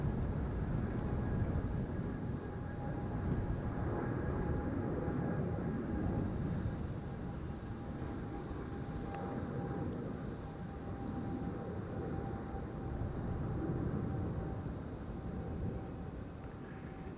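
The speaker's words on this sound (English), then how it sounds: "Now in the meantime, Qatar is also taking off from center." A Qatar Airways airliner takes off from the center runway at Amsterdam Schiphol, heard as a faint, distant, steady jet rumble with a thin tonal whine and no talk.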